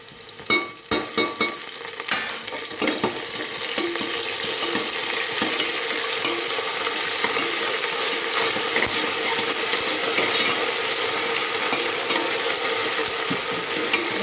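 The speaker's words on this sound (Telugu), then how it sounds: "దీనిలో ఒక స్పూన్ అల్లం వెల్లిపాయ పేస్ట్ వేసేస్తున్నాను." Spoonful of ginger-garlic paste frying in a pan for tomato pulao, a few sharp clatters at first, then a steady close sizzle under stirring.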